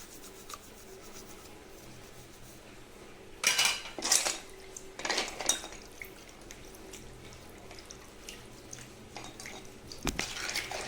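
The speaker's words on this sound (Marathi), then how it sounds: "मी हे देव सगळे असे घासून घेणार आहे" Metal deity idols being scrubbed clean by hand, with irregular bursts of scraping, rubbing and clinking metal close by, intermittent and fairly loud against a quiet background.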